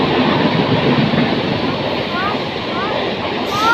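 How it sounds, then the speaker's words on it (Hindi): A passing train on the fast track at a suburban railway line, a steady loud rumble with rail noise throughout, faint whistling tones near the end, and some background talk. "तो वहाँ देखो ट्रेन गई।"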